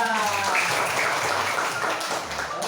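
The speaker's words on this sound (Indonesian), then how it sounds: "Berikan tepuk tangan." Applause in a school classroom during a practice teaching lesson, a dense burst of clapping that fills the room for a few seconds, with a voice audible near the start.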